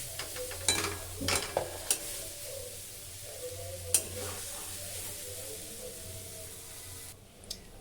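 Kheer stirred in a pan before date palm jaggery goes in, soft scraping strokes over a faint low simmer and sizzle, a few sharper clinks standing out, fairly quiet overall.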